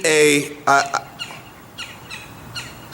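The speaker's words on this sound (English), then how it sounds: "you hear the bird? The bird's distracting me." A bird squawks loudly a couple of times up close, followed by a few fainter calls, with quiet gaps between.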